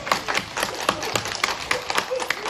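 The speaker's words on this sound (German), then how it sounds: "Ein Applaus für die Frau Richard." Young children at a kindergarten clap in an uneven, scattered patter, with quick irregular hand claps rising and falling over a couple of seconds, fairly near and moderately loud.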